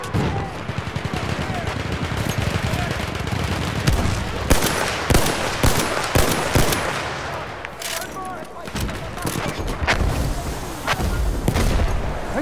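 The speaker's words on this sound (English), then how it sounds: "Machine gun over there!" Battlefield 1 gameplay set in the Argonne Forest, with dense, continuous machine gun fire rattling throughout, sharp shots and booms layered over it, and a shouted voice in the mix.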